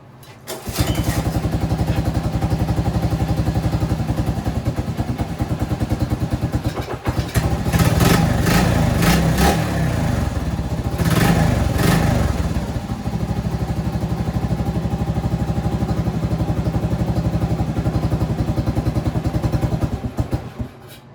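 A Honda small engine runs and idles steadily for about twenty seconds with a loud, even mechanical chug, its note briefly rising and wavering in the middle before settling back to a continuous idle.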